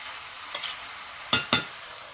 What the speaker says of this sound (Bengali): মাংসটা ঢেকে ঢেকে কষিয়ে নেব